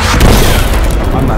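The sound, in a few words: explosion boom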